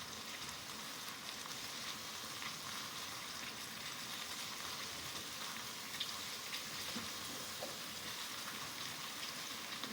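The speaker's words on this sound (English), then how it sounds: "I'm letting that sear in a pot." Food searing in a pot on a home stove, a steady, even hiss and crackle of sizzling that holds at a moderate level throughout with no talk over it.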